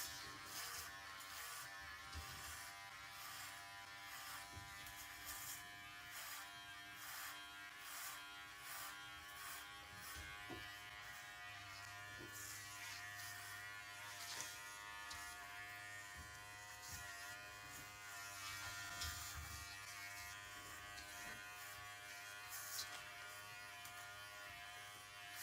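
Electric hair clippers buzz continuously through a buzzcut of long, waist-length hair, a steady close-up hum with rhythmic pulsing as the blades pass through the hair, and no talking.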